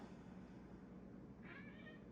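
A faint, short meow from a cat rises briefly above a low, steady background hum in a quiet room.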